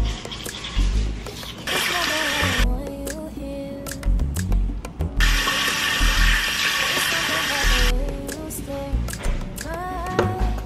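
Water runs from a sink tap during face washing, a steady hissing gush that surges and drops in strength, with splashing and handling noises mixed in and a voice talking throughout.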